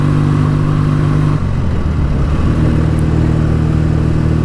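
A BSA A10 650 Super Rocket motorcycle engine rumbles loud and close on a country road, a steady droning note that drops in pitch as it eases off under engine braking, then settles into an even hum.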